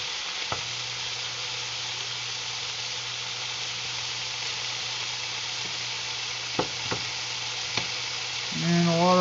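Pork chops fry in a pan as they are turned, a continuous sizzling hiss broken by a few sharp clicks, with a brief voice-like tone near the end.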